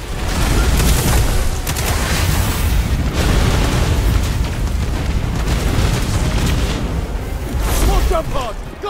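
Missile blasts in a sci-fi shooter game battle, a dense run of loud booming explosions layered over constant rumble for the whole stretch, with shouted voices mixed into the chaos.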